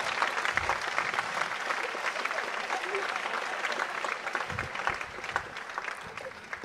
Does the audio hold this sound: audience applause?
yes